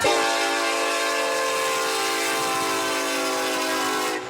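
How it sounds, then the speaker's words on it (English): A train horn blares at a level crossing close to homes in one long, loud, continuous blast that holds steady for several seconds. "The horn honking started 3 weeks ago"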